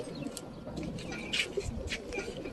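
Pigeons cooing softly at a racing-pigeon release in Çavdır, Turkey, with low repeated coos and a few faint chirps over quiet outdoor background.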